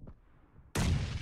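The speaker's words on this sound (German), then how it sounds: "Waren auch Schüsse." A sudden loud gunshot blast from the battle royale video game PUBG bursts in after a quiet moment and rings on with a booming tail.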